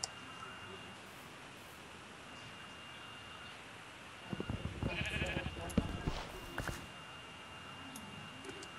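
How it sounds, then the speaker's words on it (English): Sheep bleat in Minecraft in a short burst of overlapping calls in the middle, over a steady low background hum and a faint constant tone. "Wow, there are sheep everywhere."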